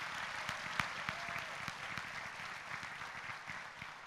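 Audience applause at a city's state of the city address: a continuous round of clapping from a large crowd, moderately distant and fairly quiet, with a few sharper individual claps standing out.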